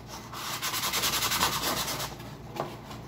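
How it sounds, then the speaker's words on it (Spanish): Hand sanding of a ring part that fits into an arm, done in a workshop: steady rhythmic back-and-forth scraping strokes, close and fairly loud, with no talking. "Ahorita estoy lijando esta parte porque es la que entra en el brazo"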